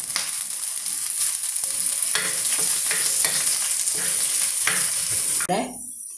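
Curry leaves hitting hot oil in a pan, crackling and sizzling steadily with a few sharper pops and stirring scrapes, close and loud, then cutting off abruptly near the end.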